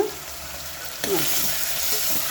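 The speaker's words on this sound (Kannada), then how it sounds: "ಇವಾಗ ಇದ್ರ ಒಳಗಡೆ ಸಣ್ಣದಾಗಿ ಕಟ್ ಮಾಡ್ಕೊಂಡಿರೋಂಥ 3 ಟೊಮೆಟೊನ ಹಾಕೋತಾ ಇದ್ದೀನಿ" Three finely chopped tomatoes sizzle in a pan of hot oil, making a steady, close hiss with a brief rise in sizzle as they settle.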